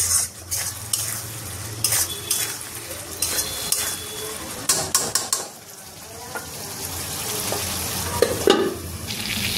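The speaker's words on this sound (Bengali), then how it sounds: "যতক্ষণ মশলা কষা হবে এই ফুলকপিটাও সাথে দিয়ে দিচ্ছি" Spice paste and cauliflower being stir-fried in a pan for a Bengali egg curry, with steady sizzling, scraping stirs and sharp clinks of a spatula against metal throughout, no talking.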